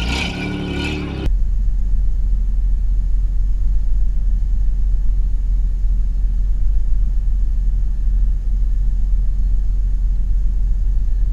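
A rally car at the start line idles with a deep, steady engine rumble close by, following a short burst of voices at the opening. The note holds low and even throughout, with no clear revving.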